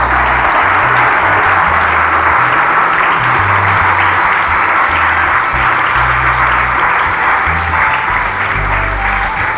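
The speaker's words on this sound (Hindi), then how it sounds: "हक ते बनदा उस बंदे वास्ते तालियां वजाण दा" A church congregation claps steadily and loudly through the whole stretch, a dense, sustained burst of applause with no pauses and no voices rising above it.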